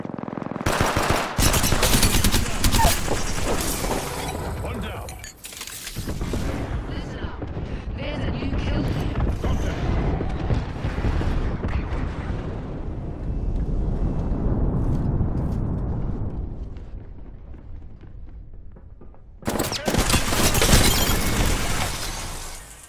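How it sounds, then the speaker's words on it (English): Explosions and gunfire from an airstrike in Apex Legends: loud dense machine-gun bursts, crashing blasts and shattering debris across most of the stretch, a quieter lull, then a final heavy burst, with speech mixed in. "Signaling an airstrike."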